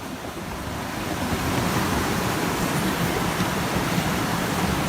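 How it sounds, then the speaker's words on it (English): Floodwater rushes down Commercial Street in Haline, turned into a river, as a steady, loud broadband roar of churning water that swells slightly after the first second and holds constant, with no voices. "Flooding turned Commercial Street in Haline into a river."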